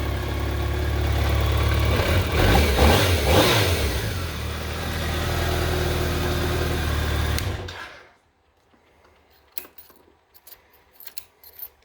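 A 2000 BMW K1200RS sport-touring motorcycle engine runs with a mild exhaust, revving smoothly and fairly loudly for several seconds before cutting off, leaving quiet with a few faint clicks and knocks.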